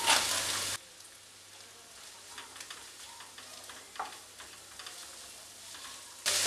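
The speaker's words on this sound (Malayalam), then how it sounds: "ഞാൻ സവോള ഇവിടെ വളരെ ചെറുതായി കട്ട് ചെയ്തെടുത്തിട്ടുണ്ട്. അതിനകത്തേക്ക് ചേർത്ത് നന്നായിട്ട് വഴറ്റിയെടുക്കാം." Finely chopped onions sauté in a pan for okra masala, giving a soft, low crackling fry with scattered light pops and a stir or two, fairly quiet, with brief louder bursts at the start and end.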